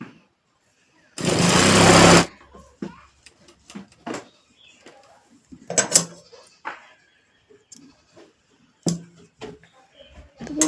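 A sewing machine stitches the folded bottom hem of a full-sleeve nightgown in one loud, close burst of about a second, followed by quieter clicks, fabric handling and a few soft voice sounds.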